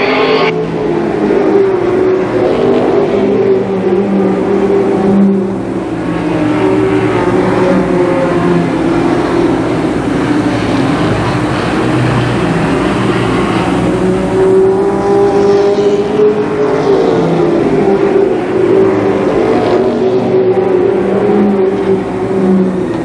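Pack of ARCA Pro 4 race cars racing at Columbus Motor Speedway, a loud sustained engine roar rising and falling as cars pass and accelerate around the oval.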